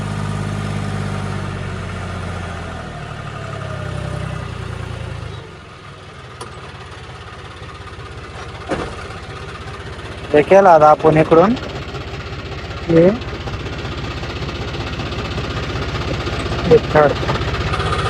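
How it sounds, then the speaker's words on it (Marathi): A tractor engine chugs steadily nearby with a deep, even rumble as it climbs a slope, while someone speaks over it in short phrases. "आता ट्रॅक्टर आरामशीर चढतोय इथून"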